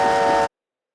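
A mail train's whistle sounds as one steady, loud, tonal blast that cuts off abruptly partway through, with nothing after it.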